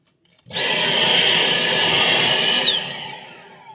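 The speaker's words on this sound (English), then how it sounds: "I do actually have my vacuum cleaner up here just conveniently" A vacuum cleaner switches on abruptly and roars loud and steady with a high whine while cleaning an ElectroVoice P3000RL amplifier, then cuts off and winds down after about two seconds.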